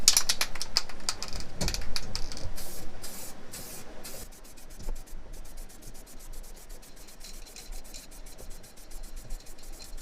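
Bursts of aerosol spray paint hissing onto a motorcycle helmet, applying a sky blue coat, with short sprays in the first half followed by quieter rubbing and handling noises.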